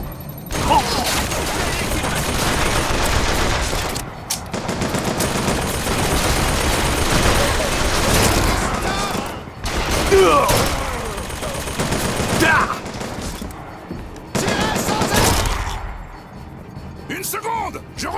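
Dense gunfire rattles through a BioShock Infinite firefight in rapid overlapping bursts, loud and nearly continuous with brief gaps, under shouted voices from the game.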